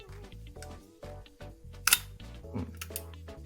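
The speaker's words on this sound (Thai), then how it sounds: "ต่อมาสปีดชัตเตอร์หกสิบ" A camera shutter fired at 1/60 s during a pre-delivery function test, giving a single sharp, crisp click midway through over steady background music.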